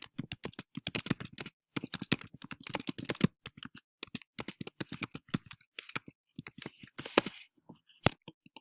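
Quick bursts of keyboard typing, key clicks in rapid runs separated by short pauses, close and clear.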